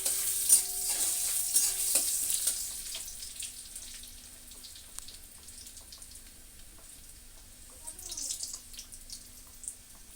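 Dried red chillies frying in hot oil in a pan for a leafy greens dish, with a quiet sizzle and a few stirring clinks early on, then a faint steady bubbling of oil.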